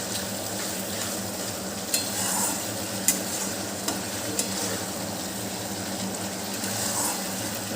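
Spice masala for a cabbage kofta curry fries in oil in a pan, a constant close sizzle broken by a few sharp clicks of a spoon or spatula against the metal as it is stirred, with no talking.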